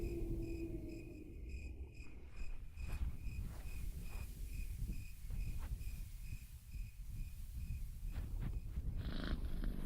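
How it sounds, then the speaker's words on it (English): A cat in a video game purrs in a soft, steady rumbling rhythm, quiet and close, while a thin high insect-like chirp rings in the background. "Oh, there is a cat."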